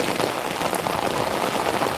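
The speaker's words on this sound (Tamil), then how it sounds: "அந்த அளவுக்கு மழை பெஞ்சிட்ருக்கு" Heavy rain pouring steadily onto a surface, a dense, loud, unbroken hiss of drops with no pauses.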